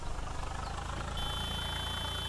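Tractor engine in Farming Simulator 22 with an Indian mod, an Arjun 605, running as a steady low rumble with a thin high whine joining partway through, continuous and fairly loud without any talk.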